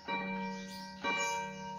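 A vintage Seiko wind-up wall clock made in Japan, a two-key 30-day movement, strikes its chime twice with deep, soft, mellow tones that ring and sustain between strikes, close and clear.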